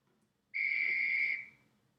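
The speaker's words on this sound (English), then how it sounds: "When you hear the whistle blow," One sharp, shrill whistle blast starting a race, held for about a second, then cut off, over a quiet background.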